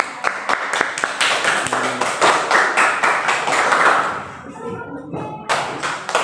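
Classroom clapping from a group of students, brisk and fairly close, with distinct hand claps and thumps over a few seconds before thinning out, voices briefly audible near the end.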